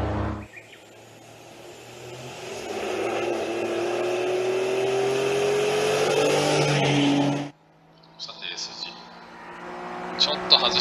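A rally car on a tarmac stage slows hard and downshifts for a corner, its engine droning loudly with a falling pitch before cutting off abruptly; faint chirps and light noises follow, and someone commentates throughout.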